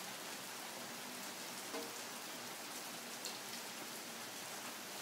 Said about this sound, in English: We mostly got rain.